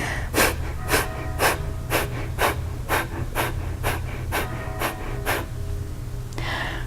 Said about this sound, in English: So for Kapalabhati, it's a sharp, forceful exhale with the navel pressing back towards the spine with each exhale.